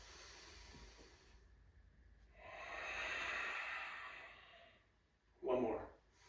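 A slow, deep inhale during a gentle morning yoga flow as the arms sweep overhead: a soft breath swells for a couple of seconds, then a brief, sharper rush of air follows.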